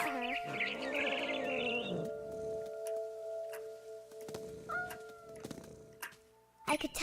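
A cat meows in the video game What Remains of Edith Finch, a few drawn-out, wavering calls early on, then sparse chirps and small game sounds against a quiet background.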